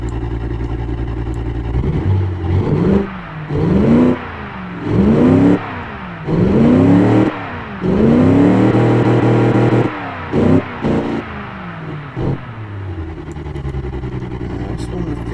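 A simulated 5-litre muscle car V8 with single reverse-flow exhausts revs repeatedly in the Automation game, a run of rising throttle blips in close rhythm after a steady idle, loud and alone.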